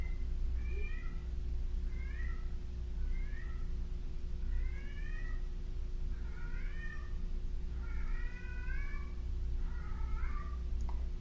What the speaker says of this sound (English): I think that's that creepy cat. That's that creepy cat over there.